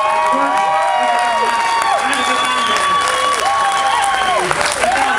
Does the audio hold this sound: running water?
no